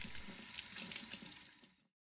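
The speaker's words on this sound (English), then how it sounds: "To wash the butter, place it in a clean cloth and run it under cold water like this." Cold tap water runs steadily over butter wrapped in a cloth, a close, continuous splashing stream that stops abruptly near the end.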